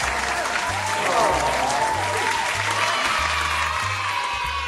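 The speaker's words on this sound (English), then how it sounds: "We need some applause." A short burst of applause and crowd noise marks a birthday moment for Feathers, dense clapping over a steady low pulsing beat, with voices mixed in.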